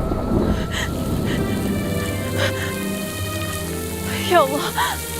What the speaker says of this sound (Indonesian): Ya Allah, hujan.